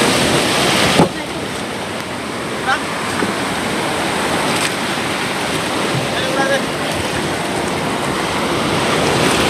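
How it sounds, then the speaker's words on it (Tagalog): Strong sea surf crashes continuously near the shore, a loud broad roar of waves with wind buffeting the microphone, and a faint voice or two surfacing briefly. "Oh, lakas ng alon."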